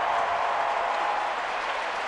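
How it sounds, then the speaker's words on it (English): A baseball crowd at a Giants game applauds steadily in a loud, sustained wash of clapping and cheering that fills the stadium without a break. "A nice round of applause here for a crowd that appreciates the situational at bat"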